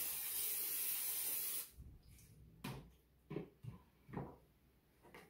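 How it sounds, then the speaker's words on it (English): A steady, close hiss of cooking spray coating a Stackcooker bundt cone for a microwave carrot cake, lasting under two seconds, followed by soft handling clatters and taps. "I'm going to spray this with cooking spray."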